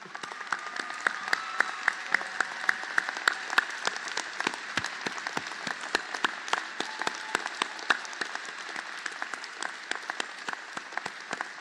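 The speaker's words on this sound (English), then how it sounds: "let's just give ourselves all a round of applause, because we made it" Audience applause fills a college commencement ceremony at Roxbury Community College's 46th annual graduation, a steady, dense patter of many hands clapping throughout, moderately quiet and somewhat distant, with no talk over it.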